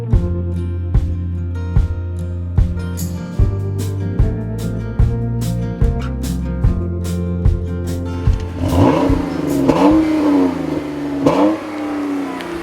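A 2015 Chrysler 200 accelerates hard with a throaty engine note, climbing in pitch through several upshifts of its 9-speed automatic, each one marked by a short dip before it pulls again, loud and close.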